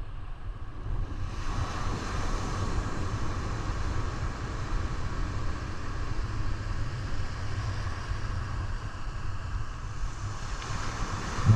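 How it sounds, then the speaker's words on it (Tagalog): Steady wind buffets the microphone at a Bicol seaside fishing spot, a constant low roar mixed with the wash of surf, running unbroken and fairly faint with no talking. "Mahangin."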